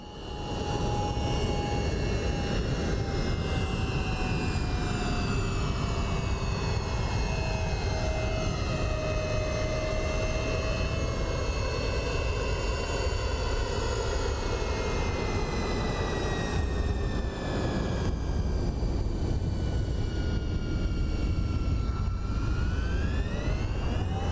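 An MD-11F cargo jet lands in X-Plane 12, with a loud, continuous engine roar and whine holding steady and then shifting pitch as the engines spool down toward the end.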